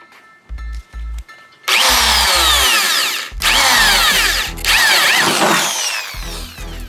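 A power drill revs in short bursts, then bores loudly through a Miata's metal body in two long whining runs, pitch sliding as it cuts.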